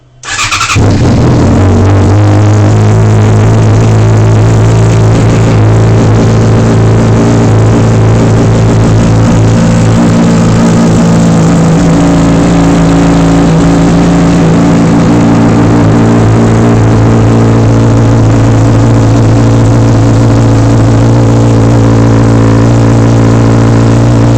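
A 2008 Yamaha FZ6 Fazer S2 motorcycle starts with a brief crank and then idles steadily, a loud, close, continuous engine drone that goes on without a break and with no talking.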